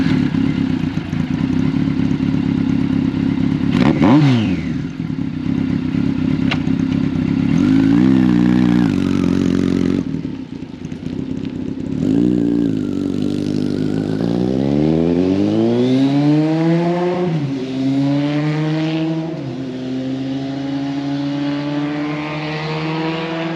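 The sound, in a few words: Kawasaki KZ1000M motorcycle riding, engine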